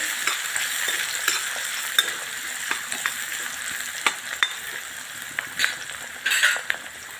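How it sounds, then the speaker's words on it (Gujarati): Tomato and onion sizzle in a hot pan while a spoon stirs and scrapes steadily, with occasional light metallic clinks over a constant frying hiss; no one speaks. "ટામેટું નાખીશું। ટામેટાને સરસ મજાનું શેકી લઈશું આપણે।"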